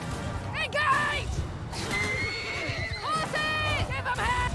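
Horses neighing and galloping in the video game Mount and Blade Bannerlord, several loud whinnies over pounding hooves and battle clatter, with shouting voices mixed in.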